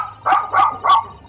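Dogs in the Great Ace Attorney 2 video game give three quick, evenly spaced barks, clear and fairly close, with nothing else heard around them.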